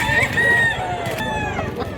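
A game rooster for sale at a market in Mantalungon, Cebu crows with a drawn-out call, nearby and fairly loud, amid crowd noise and people talking.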